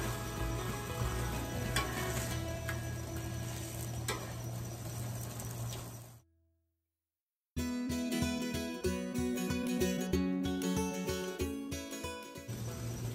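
Slices of bologna fry in a hot pan with a steady, crackling sizzle that cuts out briefly, then returns with sharp bursts of spatter as the pieces are flipped.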